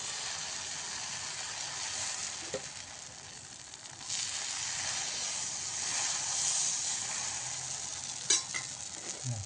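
Dosa batter sizzles on a hot pan in a steady, close hiss that swells after a few seconds, with a couple of brief metallic taps near the end and no talking.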